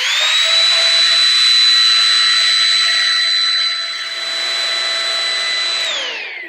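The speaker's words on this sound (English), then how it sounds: "It's not a cordless, it's corded, you plug it in." A corded plug-in vacuum cleaner runs with a loud, steady motor whine and a high-pitched tonal hum that holds constant, then dips slightly and winds down near the end, with no talking.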